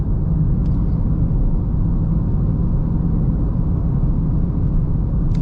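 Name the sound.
tyre road noise inside 2020 Vauxhall Corsa 1.2T at 50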